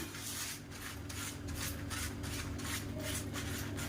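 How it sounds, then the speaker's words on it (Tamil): A hand rubs oil over a banana leaf while black urad dal vada is being made. Close, soft, rhythmic swishing strokes repeat steadily with no talking. "வாழையில் எடுத்துட்டு அதில் வந்து கொஞ்சமாக எண்ணெய் தடவிக்கலாம்"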